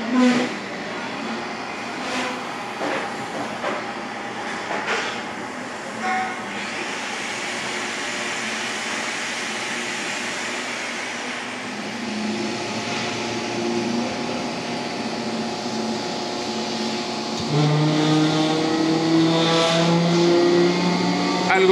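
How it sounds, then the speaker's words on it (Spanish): An electric compressor motor run by a Tuowei MAM6070 controller accelerates steadily, its broad whine and hum holding loud and continuous, rising in intensity near the end. "que me sorprendió de este motor es la frecuencia con la que llega a acelerar"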